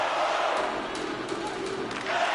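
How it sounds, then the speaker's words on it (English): Hockey arena crowd in the NHL 25 video game during a tie game late in a period, a steady roaring murmur of spectators with faint cheers rising throughout, under light voices. "You can feel the energy in this crowd."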